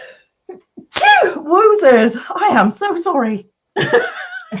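A woman sneezes abruptly mid-conversation while mixing acrylic pouring paint and glue, then speech resumes with an apology and chatter from several people around her.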